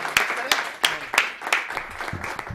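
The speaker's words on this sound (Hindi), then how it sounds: "जोरदार तालियां बजाकर धनंजय।" An audience at a Hindi comedy poetry event claps in a handful of sharp, spaced bursts, with a few scattered claps trailing off at the end.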